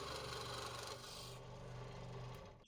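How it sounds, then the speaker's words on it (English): Aluminum pike lure body being cut and shaped on a woodworking scroll saw and spindle sander, a steady close rasping grind that holds continuously, then thins out toward the end. "I'm using my scroll saw and my spindle sander to shape the body."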